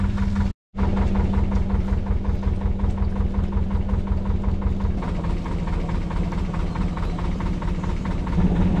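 A narrowboat's engine ticks over very slowly, a steady, close, rhythmic low chugging that carries on evenly, with one brief dropout near the start.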